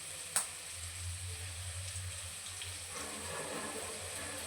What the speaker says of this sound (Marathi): आता गरम गरम तेलामध्ये ही आपल्याला भेंडी टाकायची आहे.